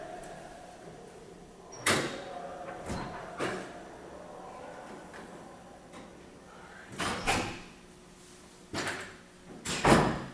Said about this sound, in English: shut that door back there because I'm easily distracted